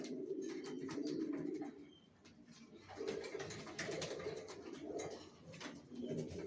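Low, soft cooing from racing pigeons in repeated rolling phrases, with short pauses and faint chirps in the background.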